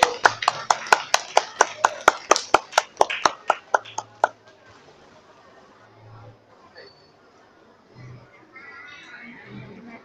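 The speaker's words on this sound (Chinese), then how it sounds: "请大家以热烈的掌声感谢默默付出的志工" Rapid, loud applause from a gathered crowd at a temple scripture-recitation event breaks out in a burst of sharp claps lasting about four seconds, then fades into quiet murmuring and scattered voices.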